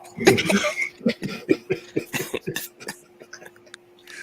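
Someone coughs and clears their throat repeatedly in rough, rhythmic bursts, close up, with a steady hum underneath.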